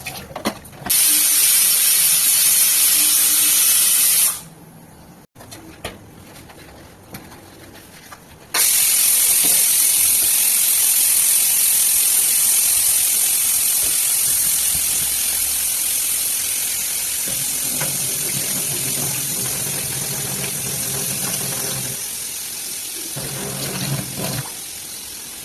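Dishes are washed in a kitchen sink, with running tap water hissing loudly in long stretches, a pause, then steady splashing, clinking and scrubbing of utensils close by.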